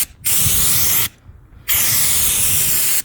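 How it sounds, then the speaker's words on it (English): Bursts of a spray gun applying coating to a camper trailer build, two long loud hissing passes separated by a short pause, close and alone without talk. "this is pretty much how it goes on the gun. And it literally sprays nice"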